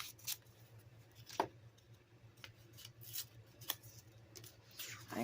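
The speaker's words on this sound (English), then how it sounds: "And I also have my scissors." Scissors snip through craft material close up, several quiet sharp cuts spaced unevenly over a few seconds, with no one talking.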